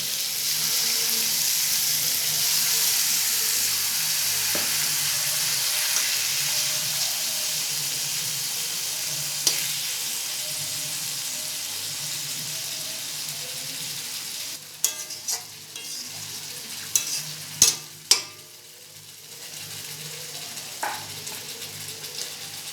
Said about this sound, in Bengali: কষানো হয়ে গেলে এবার লোটে মাছটা দিয়ে দেওয়া হচ্ছে